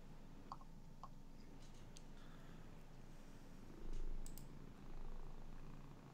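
A cat purrs softly and steadily close by, the low rumble running throughout with a few faint clicks and a slightly louder swell near the end.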